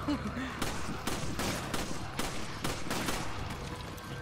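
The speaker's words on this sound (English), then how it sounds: "I'm shooting that guy in the dick again" Gunfire in Resident Evil 5, a rapid run of sharp, even shots cracking out one after another at a steady rhythm, with faint game sounds underneath and talk mixed in.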